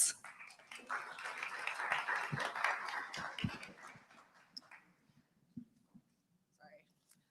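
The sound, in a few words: audience applause for panelists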